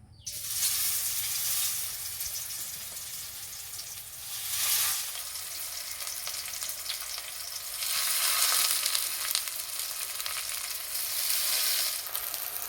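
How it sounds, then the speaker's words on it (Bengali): Gram flour fritters wrapped in pumpkin leaves fry in oil in a nonstick pan over low heat, giving a soft, steady sizzle that swells slightly in places and has no voices over it. "হালকা আঁচে বড়াগুলো ভাজলে না ভিতর পর্যন্ত খুব সুন্দর ভাজা হয়"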